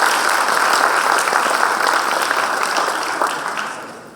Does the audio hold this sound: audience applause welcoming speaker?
yes